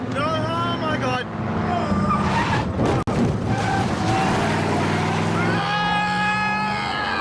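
A car skids with engine revving, whining tire-like tones and a sharp bang partway through, loud and close, while people shout and talk over it.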